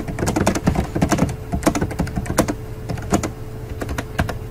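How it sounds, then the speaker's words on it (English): Rapid, uneven clicking of computer keys, close and distinct, with short bursts and brief pauses between strokes. "now I can start typing"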